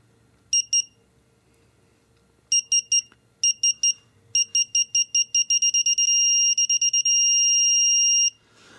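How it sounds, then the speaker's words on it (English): A digital torque wrench set to 75 foot-pounds gives a run of sharp, high electronic beeps that come in clusters, then speed up into a steady tone lasting about two seconds, loud and close against near silence. "Now I've set it to 75 foot-pounds."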